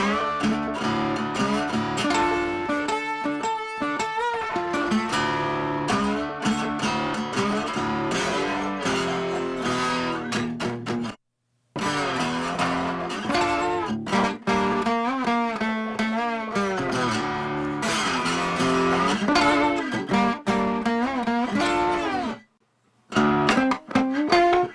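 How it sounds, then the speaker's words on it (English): Acoustic slide guitar played on the lap, drenched in reverb, its gliding pitch bends and sustained notes flowing almost continuously, loud and up front, broken by two short silent gaps, with no talking. "this is just like an acoustic slide that I played on my lap."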